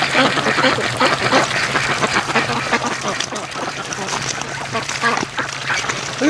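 Ducks quacking on a lake during a free-range afternoon, a busy flock calling repeatedly and close by, with a voice talking over and among the quacks.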